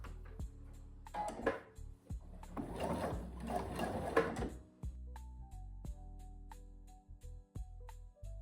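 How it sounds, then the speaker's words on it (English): A sewing machine stitches seams down the middle of fabric pages for a high-contrast baby book, running in bursts with a steady whirring rhythm between pauses and small clicks, close and fairly quiet, no talking. "Let's go ahead and sew these down the middle."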